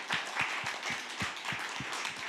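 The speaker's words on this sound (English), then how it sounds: "So a round of applause for the people that spoke" A small audience claps for session speakers at a conference, a sparse, fairly close patter of distinct individual claps in a loose, roughly regular rhythm over a short burst.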